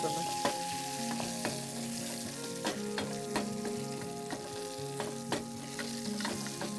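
Papaya halwa roasting in a pan, a soft continuous sizzle with regular scraping strokes of a spoon against the pan, close and fairly quiet.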